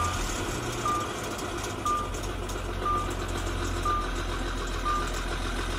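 An Audi Q7 engine runs rough after an oil flush, giving a steady low rumble while a warning beep repeats about once a second.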